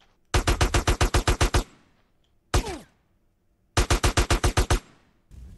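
Automatic gunfire in Grand Theft Auto: San Andreas, two loud, close bursts of about ten evenly spaced shots each, with a single heavy bang between them.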